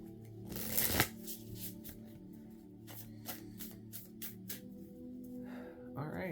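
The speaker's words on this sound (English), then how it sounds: "Shuffle this one more time. And let's draw some cards." Tarot cards being shuffled by hand, a run of close papery riffles and slaps, loudest near the start, then softer repeated shuffles with a brief voice near the end.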